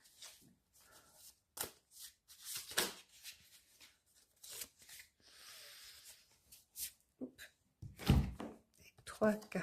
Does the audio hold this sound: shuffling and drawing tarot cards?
yes